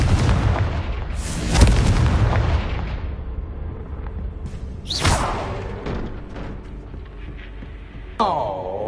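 Repeated Confringo fire-spell blasts in the video game Hogwarts Legacy: loud booming explosions with crackling debris, one strong burst near the start and another midway, then a rising whoosh at the end.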